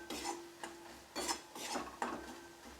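A spoon stirs red lentils with cumin and coriander powder in a pan for masoor dal tadka, making about five rhythmic scraping, clinking strokes against the metal, close and fairly quiet, with no voices.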